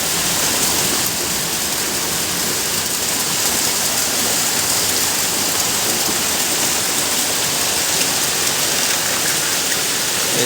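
A heavy downpour falls outdoors as a loud, even wash of rain with water running, steady from start to finish and without distinct thunder.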